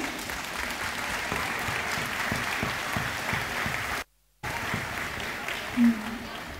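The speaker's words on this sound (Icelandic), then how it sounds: "ég legg til að við gefum þeim gott klapp fyrir árangurinn á árinu" Sustained applause from an audience at a 2018 Akranes sports awards ceremony, a dense continuous wash of clapping with a brief cut of silence partway through.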